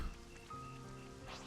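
Soft, steady rain falls in the video game Xenoblade Chronicles 3, a faint continuous patter with quiet tonal game sounds layered over it.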